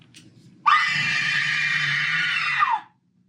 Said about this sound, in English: If we wanted it to always play that scream sound